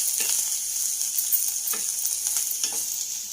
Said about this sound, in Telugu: దొండకాయ ముక్కలు బాగా వేగినాయండి